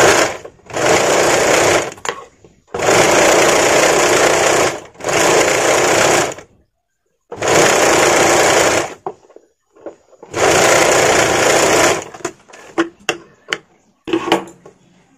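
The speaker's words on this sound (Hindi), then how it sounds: "आमहुल पट्टी के साइड से हमें एक सिलाई करना है" An electric sewing machine stitches the armhole strip of a short frock in five loud, close bursts of rapid whirring, separated by brief pauses, followed by a few scattered clicks and knocks.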